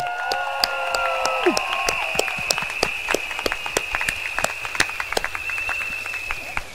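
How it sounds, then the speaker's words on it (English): Rally crowd at an outdoor stadium applauding a sign language translator, sharp scattered claps over a steady crowd hum, with a sustained tone and brief voice early on. "Shall we give them a big round of applause?"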